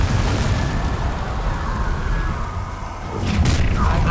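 Confringo and Bombarda spell explosions from Hogwarts Legacy, a rolling roar of blasts with fiery crackle that dips briefly then swells again near the end.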